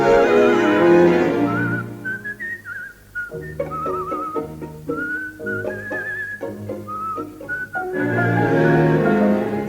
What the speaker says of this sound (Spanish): un reo meditabundo va silbando una